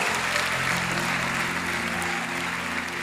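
Congregation applause during a church sermon, a steady, dense wash of clapping from many hands that fills the whole stretch at even loudness.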